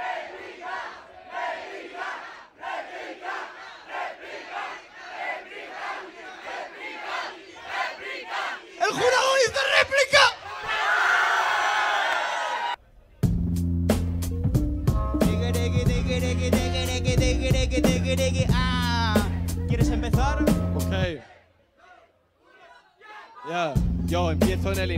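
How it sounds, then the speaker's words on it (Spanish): A crowd at a freestyle rap show roars and claps for the rapper, starting with dense shouting and applause, then loud music with a beat that cuts off abruptly, followed by a brief pause. "Fuerte aplauso para él."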